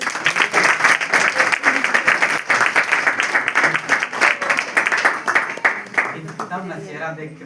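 Wedding guests applaud in a church during the ring exchange, a sustained round of clapping that runs the whole clip at moderate loudness and thins out near the end, with some talk mixed in.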